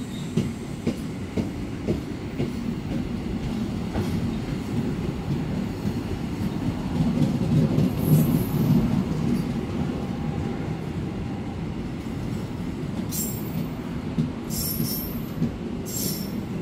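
The Purwojaya executive-class train rolls through a busy Jakarta station at night, a continuous low rumble of wheels and carriages with faint clicks and occasional high squeals from the rails.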